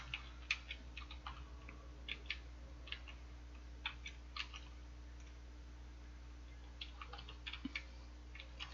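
Numbers typed into SMath Studio on a computer keyboard: a faint, steady run of light key clicks at an uneven pace over a low hum, with no speech.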